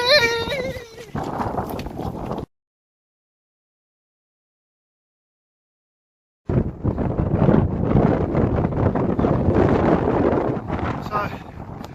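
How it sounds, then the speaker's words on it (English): Strong wind buffets the microphone on an outdoor hilltop hike, a loud roaring rumble that cuts out completely for a few seconds before returning, with a brief voice near the start. "I don't know if you can hear me over the wind."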